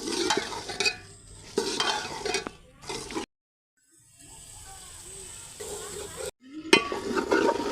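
Okra fries in hot masala in a pot, sizzling loudly while a spoon scrapes and stirs in short bursts, with a brief quiet gap before the sizzle and stirring resume up close.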